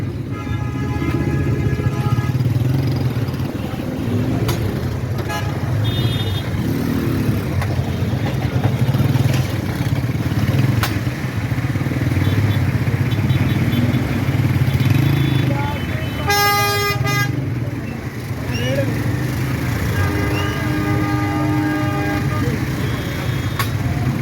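Motorcycles and cars push through a crowded goat market at Shahpore Kanjra, Lahore, with a constant engine rumble, crowd noise and repeated short horn toots, loud and close, while people talk throughout.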